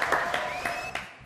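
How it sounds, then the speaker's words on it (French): Brief burst of audience applause in a French live TV studio show, a short patter of clapping from the crowd with tonal music lines running underneath, over in about a second. "Applaudissements"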